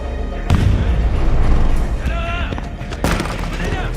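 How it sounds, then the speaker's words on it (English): Fireworks set off at a resort in the action film The Marine 2 as a distraction for terrorists, loud sustained bangs and crackling bursts over a dense noisy mix with voices underneath. "Joe Linwood sets off some fireworks. The terrorists get startled by them"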